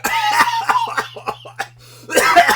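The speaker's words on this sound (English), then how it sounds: "So I started coughing and spluttering" A person coughs and splutters repeatedly in harsh, rapid bursts, with a brief lull before another loud fit of coughing.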